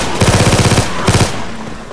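Automatic gunfire in Left 4 Dead 2 on a realism expert custom map: two close, loud rapid bursts, a long one of about a dozen shots followed by a short one, with no talk over them.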